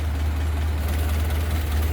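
The 201 inline four-cylinder of a 1928 Ford Model A Roadster Pickup runs at a steady idle, a close, continuous low rumble with no voices.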